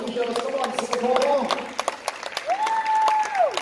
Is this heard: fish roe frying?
no